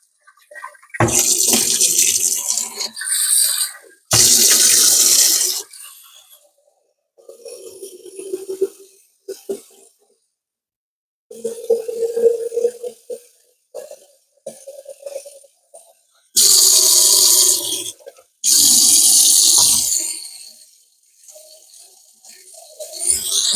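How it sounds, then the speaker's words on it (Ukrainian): Water runs in bursts from a tap into an Ambiano electric kettle, a hissing pour of fresh cold water that starts and stops several times, with quieter clinks and handling sounds between the pours. "перше наливаємо свіжу воду. Холодну."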